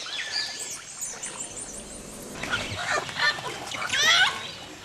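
Chickens on a flooded Amazon homestead during the rainy season give repeated squawks and clucking calls, with a louder burst of calls toward the end over a steady background hiss.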